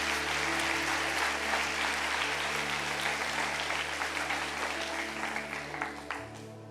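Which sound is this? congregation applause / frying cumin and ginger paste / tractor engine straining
congregation applause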